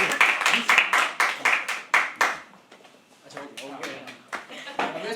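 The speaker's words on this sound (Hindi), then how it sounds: "तो प्यार से बुलाओ, ताली दो।" An audience at a live poetry open mic at The Habitat claps in quick, rhythmic bursts, loud and close at first, then thinning and picking up again, with voices talking alongside.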